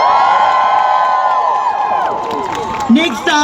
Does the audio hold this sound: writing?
no